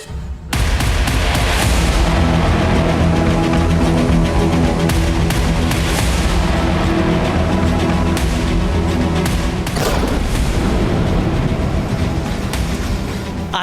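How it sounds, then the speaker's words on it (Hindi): Heavy explosions and booming blasts roll on continuously as the houses of militants are blown up in demolitions, loud and dense with rumbling low end and sharp cracks layered throughout. "आतंकियों के घरों को उड़ा दिया गया है।"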